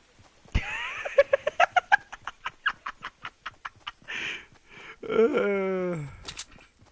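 A chicken in a video game clucks in a quick, evenly spaced run of short, sharp notes, then gives a longer drawn-out squawk, heard up close and fairly loud with no speech over it.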